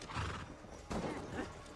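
A horse neighs in the video game Assassin's Creed Valhalla, with two short whinnying bursts close up, layered over game background noise and no talking.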